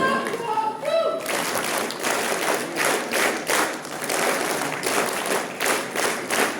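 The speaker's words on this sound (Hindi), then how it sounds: "हमारा जोरदार तालियां होनी चाहिए" An audience claps steadily at a National Voters' Day ceremony, with sustained crowd applause throughout and a voice briefly heard at the start before the clapping takes over.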